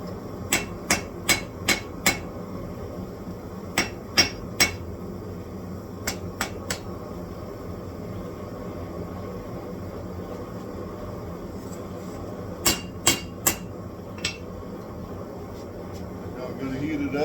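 A hammer strikes a hot steel billet in a forge, sharp metallic blows in short clustered runs of three to five, separated by pauses, over a steady background hum.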